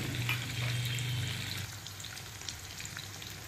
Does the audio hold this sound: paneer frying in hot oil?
yes